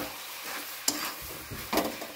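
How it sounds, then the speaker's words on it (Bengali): Jackfruit curry is stir-fried in a pan, a soft sizzle broken by a few sharp scraping strokes of a spatula, close and with no talk. "অনেকক্ষণ ধরে কষানোর পর মজেছে রান্নাটা,"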